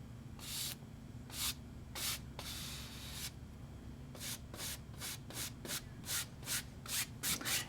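A brush working paint across a canvas for a space scene makes a series of short, close, soft scrubbing strokes, some longer sweeps first, then quicker rhythmic dabs, faint and with no voice.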